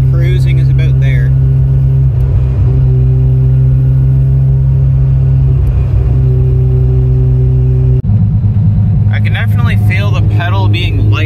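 Close-up, loud engine drone from a Mazda RX7 cruising with a carburetor setup. The tone stays steady, then drops as a gear shifts near the end, and a voice is heard briefly over it.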